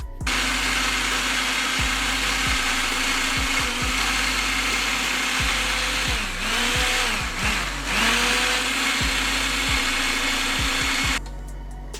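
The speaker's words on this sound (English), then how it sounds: "We're gonna put this in the mixer. And let that go." A blender whirs loudly and continuously while mixing chopped garlic with olive oil, its motor pitch dipping and surging repeatedly as the load shifts, close up with no talk, then stopping near the end.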